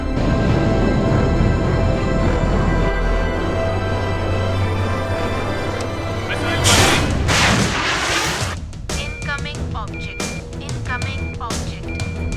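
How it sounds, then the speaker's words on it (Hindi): A missile launch in a movie action scene roars with a loud, sustained blast and deep rumble, then surges into a heavier burst of booming noise before trailing off into scattered crackles and thuds. "मिसाइल लॉन्च हो गई है।"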